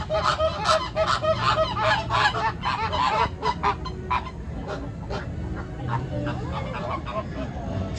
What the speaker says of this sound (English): got these flamingos making lots of noises back here.